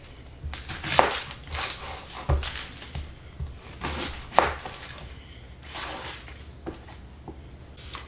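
An onion chopped into big chunks with a knife on a cutting board, a series of distinct close chopping knocks at an uneven rhythm, moderately quiet with faint background sound.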